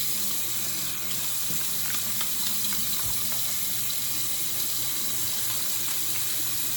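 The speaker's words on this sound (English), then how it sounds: "Wash your hands." Tap water running steadily into a sink during handwashing, a continuous close splashing rush with no talking.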